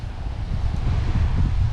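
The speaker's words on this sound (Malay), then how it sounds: "Angin, ya Allah, kuat gila." Strong wind blows across a seaside beach campsite on Malaysia's east coast, with a steady loud rush and roaring buffeting against the microphone and a low surf-like rumble underneath.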